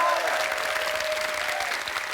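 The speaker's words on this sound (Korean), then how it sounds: "박수 한번 주시죠" Steady audience applause for an opera tenor on a talk show fills the whole stretch, dense and even, with a faint voice briefly audible beneath it.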